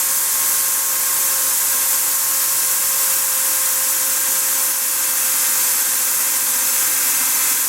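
Sandpaper pressed against a spalted walnut vase spinning on a woodturning lathe gives a loud, steady broadband hiss over a constant motor hum, unbroken and close, with no talking.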